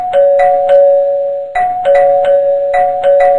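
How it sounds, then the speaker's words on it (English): A doorbell rings over and over in the horror video game Darkness, sounding as a quick series of bright chimes in two clusters, loud and clear with no talking. "How many times can I make them ring the doorbell?"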